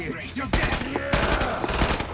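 Hip-fired bursts of automatic gunfire from Killing Floor 2 gameplay crack out in two dense volleys, loud and close, with a short gap between them.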